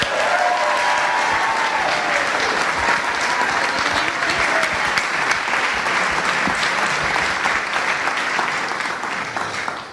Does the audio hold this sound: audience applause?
yes